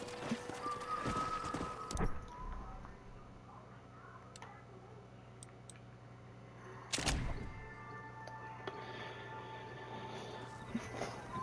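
Hoofbeats of a stallion galloping in the Red Dead Redemption video game, a steady clip-clop rhythm with game ambience, a brief louder burst near the start and another midway, no talk.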